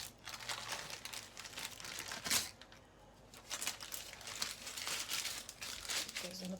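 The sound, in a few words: baking paper peeled off a seed and nut loaf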